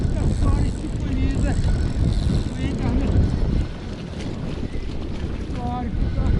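Heavy wind buffets the microphone outdoors while carp fishing, a steady low roar near water, with voices talking intermittently underneath.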